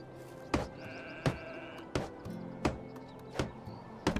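Sheep in the Medieval Dynasty video game bleat repeatedly at a steady pace, about six short calls in four seconds, close and clear with no talk over them.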